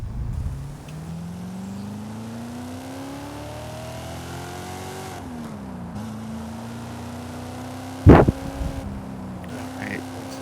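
A car engine in the racing game Forza Horizon 5, humming steadily and rising and falling in pitch, with a sharp, loud burst near the end; the engine runs alone with no speech.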